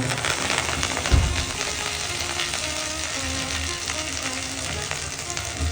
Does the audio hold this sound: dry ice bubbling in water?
no